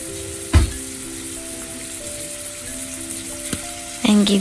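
Canned tuna with soy sauce frying in a pan, a steady close sizzle with a stir or scrape near the start and another toward the end, alone without talk.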